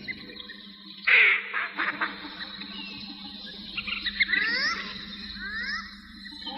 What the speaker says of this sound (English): This fellow, the Australian black duck, is found as far away as Tasmania, Indonesia, and Tahiti.